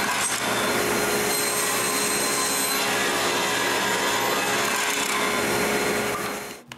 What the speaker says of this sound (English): Then I cut a groove for this plywood.